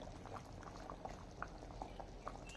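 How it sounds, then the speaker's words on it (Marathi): Rassa curry broth at a steady boil, with soft continuous bubbling and scattered small pops, close and fairly quiet, with no talking. "आपल्या रशाला छान उकळी आली आहे"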